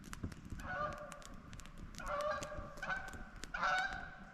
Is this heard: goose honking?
yes